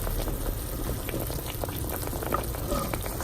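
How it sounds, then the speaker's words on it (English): Bulalo beef broth with corn and potatoes simmering in a pot, giving a soft, continuous bubbling and gentle popping heard close up, with no voices. "We added the corn and potatoes, so we're gonna just let that simmer."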